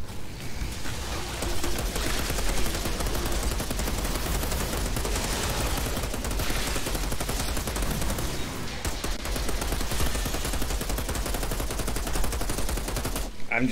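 Enemy gunfire in the shooter game Outriders, a dense, continuous rattle of automatic shots and blasts that fills the whole stretch at steady loudness, with a player's voice faintly under it.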